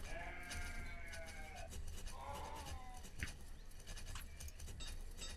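Sheep bleat in the village farming game Banished, several wavering calls in the first half over a busy ambient bed with faint clip-clop-like taps.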